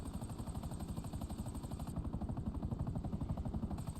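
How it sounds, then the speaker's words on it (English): A helicopter in GTA Online thuds with steady, fast rotor beats, close and continuous, with a high whine layered over the rhythmic chopping. "I'm getting there in a helicopter pretty fast."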